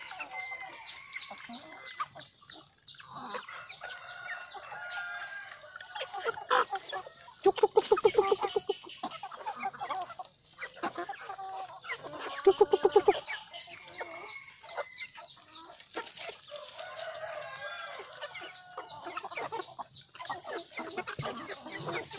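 A flock of farm chickens clucks and chatters continuously at feeding time outdoors on a cold, rainy afternoon, with a few louder squawking bursts standing out from the steady flock noise.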